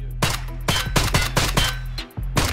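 Rapid bursts of gunfire in the video game Escape from Tarkov, loud and close, with a brief pause before a final shot.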